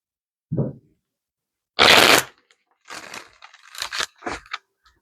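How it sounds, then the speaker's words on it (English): Tarot cards are shuffled close by in several short papery bursts separated by silence, a quick riffle followed by softer rustling. "One more shuffle here."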